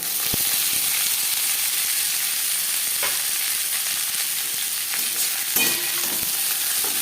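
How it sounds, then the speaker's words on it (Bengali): Mixed vegetables with a torn bay leaf fry in a pan for vegetable fried rice, giving a steady sizzling hiss with a few sharp utensil knocks and scrapes, and no talking. "তেজপাতা ভেজে নেওয়ার পর দিয়ে দেবো ভেজিটেবল"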